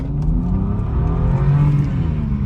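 A quick car with 54,000 miles revs and accelerates, its engine note climbing steadily in pitch and staying loud and close throughout, with no talking.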